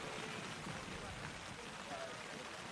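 Steady rain falls throughout a high school tournament baseball game, a soft even patter of drops on surfaces with no other sounds standing out.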